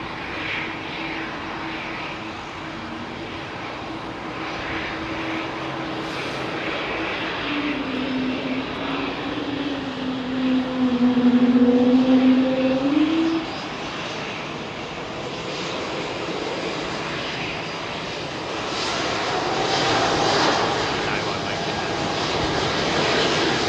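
A jet airliner departing close by from runway 27R at London Heathrow Airport. A sustained engine roar with a whining tone swells to a peak midway, then eases and builds again.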